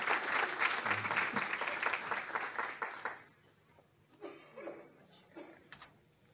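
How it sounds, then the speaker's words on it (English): An audience gives a round of applause at a First Friday event, steady clapping for about three seconds that fades into scattered claps and quiet murmuring. "So at this time, would you please give a round of applause to 2 amazing girls, Browyn O'Malley and Richelle Reichenberger."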